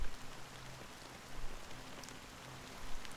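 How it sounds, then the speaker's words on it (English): Fine black rain drizzles in the game Honkai: Star Rail, a steady soft patter and hiss with faint low tones underneath, no voices present. "Amidst the fine drizzle of black rain"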